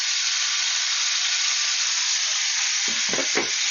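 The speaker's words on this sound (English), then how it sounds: "after a while your lid's going to get hot and you're going to get some spluttering" Cheeseburgers frying in a hot pan give off a loud, steady sizzle and hiss, with a few sharp spluttering pops and bursts near the end as the lid comes off.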